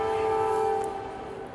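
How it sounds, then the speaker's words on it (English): A train horn gives a steady, sustained blast at a moderate distance, with the low rumble of the train running under it, in a rural Iowa farm setting. "Don't know if you heard that train running through"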